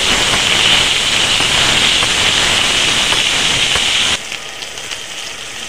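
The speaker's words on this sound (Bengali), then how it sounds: "আলু আর ডাঁটাটার মধ্যে একটুখানি নুন দিয়ে দেবো, দিয়ে ভালো করে ভেজে নেব।" Potatoes and sajna (drumstick) stalks sizzle loudly in hot oil with salt, a steady close frying hiss that drops to a quieter crackle near the end.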